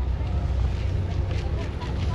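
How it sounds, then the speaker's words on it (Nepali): Strong wind buffets a microphone outside near Manly Beach in Sydney, a constant low roaring rumble with gusty fluctuation, close and loud for the whole two seconds. "बाहिर लास्टै विन्डी छ"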